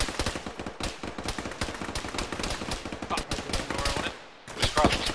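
Enemy gunfire rattles in a tactical military shooter game, rapid bursts of shots and machine-gun fire crackling densely throughout, with a brief lull near the end before more shots.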